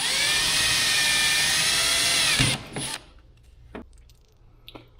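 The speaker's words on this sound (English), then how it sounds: "we're going to drill through the hole again to make it a little bit bigger to fit the bolt" A power drill whines loudly and steadily for a couple of seconds, enlarging a bolt hole on a 2025 KTM 300 XCW motorcycle, then stops, followed by a few faint clicks and taps.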